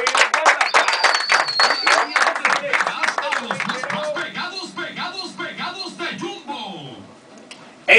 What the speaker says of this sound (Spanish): El aplauso de los directores en cabina.